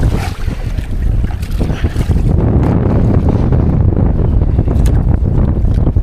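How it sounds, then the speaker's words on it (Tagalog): A small fishing boat out at sea after tuna in rough water, with loud, steady wind buffeting and rumbling over crashing waves and no let-up. "Buot ng hangin"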